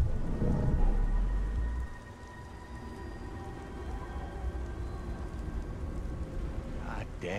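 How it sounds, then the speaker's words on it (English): Steady video game rain hisses across the whole stretch, with a low thundery rumble near the start and a brief burst near the end; no speech stands out. "God damn rain."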